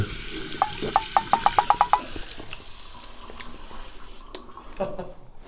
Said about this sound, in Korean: 물 틀어도 되나요?